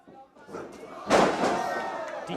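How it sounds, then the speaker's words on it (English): A clothesline slam in a wrestling video game hits with a sharp, heavy thud that cuts through the crowd noise, under commentary talk before and after. "Decapitating clothesline there"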